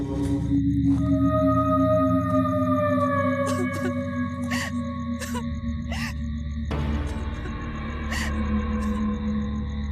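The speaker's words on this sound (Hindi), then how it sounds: "ये तो किसी युवती की रोने की आवाज है।" A young woman cries and sobs alone, her long wavering wails broken by sharp gasping breaths, heard close over a low, steady musical drone.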